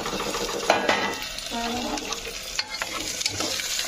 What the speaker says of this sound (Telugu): ముందుగా కట్ చేసి పెట్టుకున్న టమాటో ముక్కలు వేసుకోవాలి.